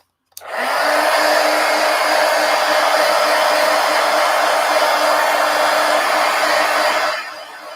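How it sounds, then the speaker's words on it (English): A hair dryer switches on abruptly and blows at a steady, loud, close whine for about seven seconds, drying wet mixed media paint in an art journal, then cuts off. "Now let's go ahead and dry it, and then I can add more."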